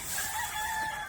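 A rooster crows among chickens on a Philippine farm, a brief close call with bright harmonic tones over a soft rustling background.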